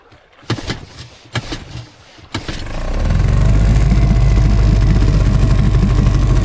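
A small 2003 outboard boat motor with the choke on takes a few pulls of the starter cord, then catches and settles into a loud, steady running drone.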